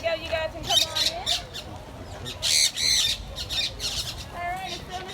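Colorful birds squawk loudly and repeatedly at close range in Mississippi, harsh calls overlapping in bursts, with people talking faintly in the background.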